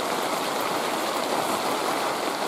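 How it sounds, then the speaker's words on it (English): Steady rain falls through a Western Washington forest on an elk bow-hunting morning, a dense continuous hiss with pattering drops and no voices. "as you can see, it's raining. Rained all night, still raining."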